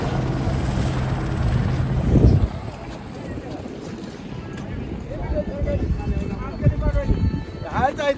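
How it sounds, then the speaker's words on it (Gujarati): A helicopter runs at a helipad along the Kedarnath trekking route in Uttarakhand, a steady low rotor drone with broadband wind-like noise, swelling briefly and continuing under outdoor ambience with people talking nearby. "હેલિપેડ ઉપર હેલિકોપ્ટર તો ચાલુ જ હોય છે."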